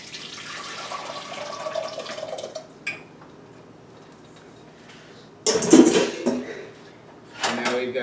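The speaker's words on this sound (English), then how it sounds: "And we'll go ahead and pour it back into our pan." Reduced cooking liquid is poured back into a pan, a brief splashing pour with clattering of the vessel against the pan, following a quieter stretch with faint background hum.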